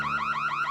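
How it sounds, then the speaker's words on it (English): An alarm sounds in the LEGO Marvel Super Heroes 2 game, a loud repeating electronic wail that sweeps upward in quick, steady cycles with no talk over it. "Who set that alarm off?"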